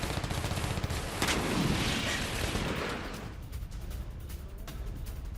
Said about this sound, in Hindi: यूक्रेनी तोपों ने रूसी ठिकानों पर एक के बाद एक हमले किए।